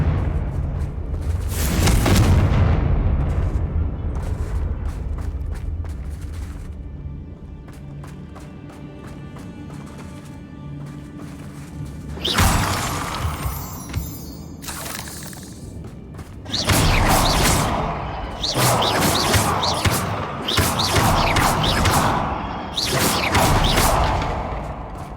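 Explosive Confringo spell blasts from Hogwarts Legacy tearing apart spider webs: several loud booming bursts with crackling debris, separated by quieter stretches of game ambience and movement.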